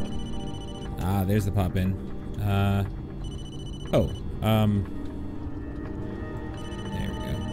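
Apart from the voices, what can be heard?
phone ringing in the video game Blair Witch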